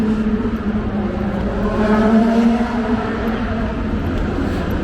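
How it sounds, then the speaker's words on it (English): Race car engines at the Long Beach Grand Prix drone steadily in the background, a continuous rumbling roar with shifting pitch, fairly loud and without speech. "You hear the cars in the background."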